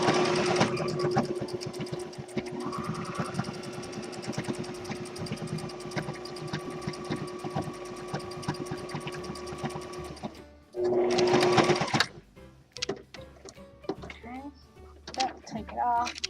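A sewing machine stitches through fleece for a soft owl toy, running steadily and loudly for about ten seconds, then pausing, giving one more short burst and stopping, with faint clicks and handling noises and a voice speaking near the end.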